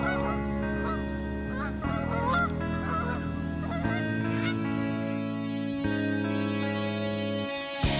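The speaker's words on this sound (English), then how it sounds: "We're in a cornfield and we're chasing down ducks and geese" Geese honk loudly and repeatedly over a cornfield, their nasal calls layered into a busy, continuous chorus with a few drawn-out cries, and no speech.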